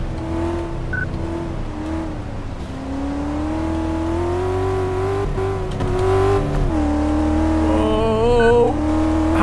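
A car engine in the racing-style video game Car Mechanic Simulator 2014 drones and revs upward steadily, the tone climbing as the car accelerates, loud and continuous with no talk.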